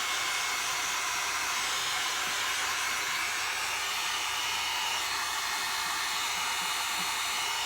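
A hair dryer blows steadily and close by, quick-drying paint on a canvas for stencil art: a continuous, even, broadband rushing hiss that holds for the whole stretch without pause.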